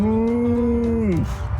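A golden retriever named Artie gives one long, loud, cow-like moo, steady and low for about a second before sliding down in pitch and trailing off.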